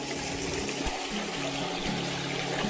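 A river running past a farm hotel property with stone walls and a pool, giving a steady, broadband rush of flowing water that stays constant throughout with no talking.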